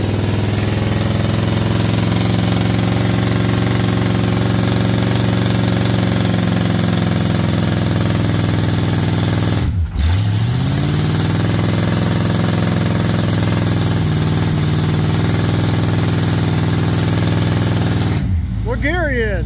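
A long-neglected off-road rig strapped to a tree holds a loud, steady engine roar at high revs, with a brief dip partway through and a voice near the end.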